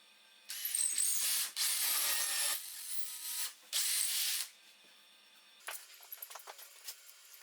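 A hole saw on a large-lever drill press bores through wooden leg vise parts for a workbench, giving three sustained bursts of grinding whine with short pauses, then quieter scattered clicks and taps as the work settles.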